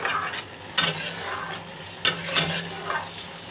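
Egg tadka dal, freshly salted, is stirred in a pan with a spoon, giving a few sharp scrapes and clinks against the metal over a low background sizzle, close by and without speech.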